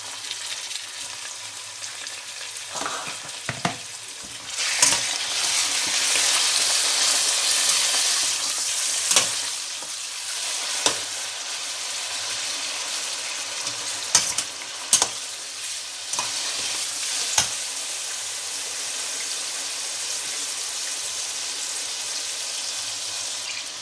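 Chicken pieces frying in a pot with lightly golden-browned onions for chicken biryani, a steady loud sizzle throughout with sharp clicks and knocks of a stirring spoon against the pot.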